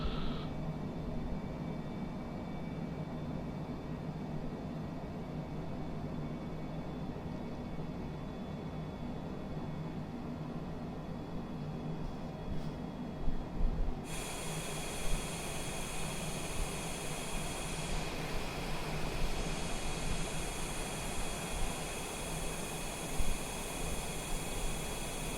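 Steady broadband cabin roar inside a Cessna Citation Longitude business jet climbing out over London, a constant engine and airflow wash with a thin high whine; the noise brightens and hardens partway through, with no voices.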